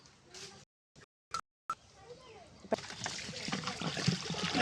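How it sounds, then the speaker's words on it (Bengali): Clear water flows and splashes in a hill stream beside a small island pond, starting as brief broken bursts and then building into a continuous rushing, sloshing flow, heard close by. "এই যে দেখো পানির কি স্রোত"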